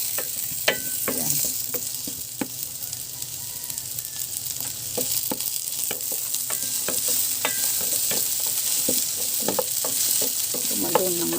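Garlic sizzles in hot oil in a pan while being stirred for monggo with lechon, a continuous crackling fry broken by sharp scraping strokes of the utensil.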